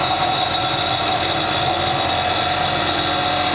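An Adept CIM Centre CNC lathe running Mach3 makes a finishing cut on an aluminium piece, a loud, steady mechanical drone with a fine vibrating texture and no pauses or speech.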